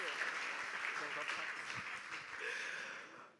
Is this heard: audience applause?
yes